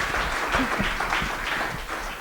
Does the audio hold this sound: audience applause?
yes